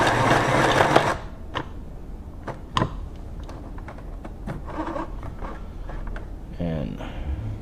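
A Singer Pixie Plus sewing machine runs briefly at high speed over well-worn test fabric, then falls quiet apart from scattered clicks and handling knocks, with a short whir returning at the end.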